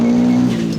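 A bugeye Subaru WRX STi engine rumbles up close with a steady, buzzing tone that shifts partway through as the revs change.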